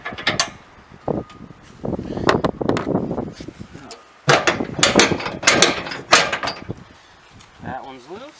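A crank mechanism on a Lite Lady outdoor setup ratchets in repeated bursts of clicking and grinding, loud and close, with brief pauses between turns.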